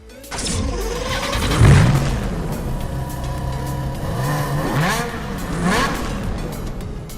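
Car engine in a racing simulator game revving and roaring right after a crash, a loud, fairly close engine drone that surges up, dips and climbs again, alone without talk.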